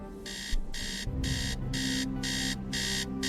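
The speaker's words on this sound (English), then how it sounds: "Beep beep, wake up, you idiot." An alarm clock in the video game Tales of the Neon Sea beeps in a steady repeating pattern of short, bright bursts, loud and close, with low game ambience underneath.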